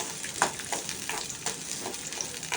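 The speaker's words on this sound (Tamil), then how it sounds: "நல்லா கலர் மாறுற வரைக்கும் வதக்கிக்கோங்க." Shallots and garlic sautéing in sesame oil, a continuous close sizzle broken by a few scraping stirs over a short stretch, no voices.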